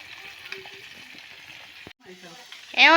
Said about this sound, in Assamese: শ'ল মাছ ফ্ৰাই কৰি আছোঁ